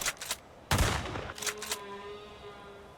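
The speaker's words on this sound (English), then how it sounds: "this is like the only time you use your shotgun" Shotgun blasts in an indie horror video game: a loud close boom in the middle with a long rumbling tail, framed by sharper, lighter shots before and after, then a low fading hum with no voices.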